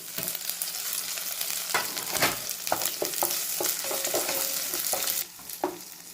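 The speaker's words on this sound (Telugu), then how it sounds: "టమాటా ముక్కలు మెత్తబడేంత వరకు నూనెలో ఫ్రై చేసుకోండి." Tomato pieces frying in oil while being stirred, a continuous crackling sizzle broken by frequent scraping and tapping of a utensil in the pan, close and alone.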